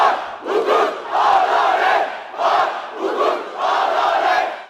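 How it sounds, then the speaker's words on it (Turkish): A large crowd at an outdoor CHP political rally in Uşak chants and cheers in loud rhythmic bursts, voices swelling and dipping in waves with short gaps between. "Önceki yıllarda gerçekleştirilen mitinglerden çok daha kalabalık olan mitingde CHP'li adaylara tezahüratlarla destek yağdı."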